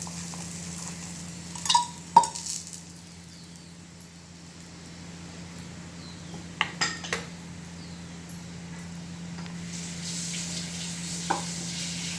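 A besan pancake fries in oil in a pan with a soft, low sizzle, interrupted by a few sharp metallic clinks of a utensil against the pan.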